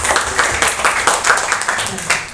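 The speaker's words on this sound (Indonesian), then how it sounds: "Ya, tepuk tangan dulu buat Tuhan Yesus." A church congregation claps hands together in a steady, rhythmic beat during a worship service in Bandung, the claps close and evenly spaced across a lively room.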